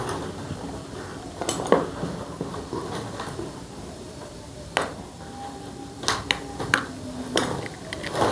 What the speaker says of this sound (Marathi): एका पातेल्यात अंडे फोडून घेऊया आपण।